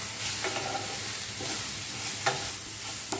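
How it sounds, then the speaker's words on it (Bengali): Dried chilies, chopped tomato and ginger sprinkled with salt sizzle steadily in a pan. A few sharp scrapes of stirring break through the frying hiss, with no one talking. "ছোট 1 চামচ নুন ছড়িয়ে দিয়ে হালকা করে ভেজে নেব"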